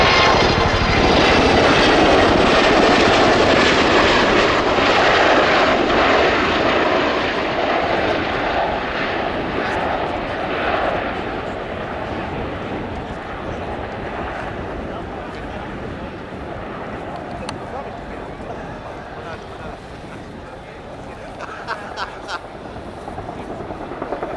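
A helicopter with 30-foot rotor blades passes at the Royal International Air Tattoo 2015 air show, its loud, dense beating roar filling the air and slowly easing off as it moves away.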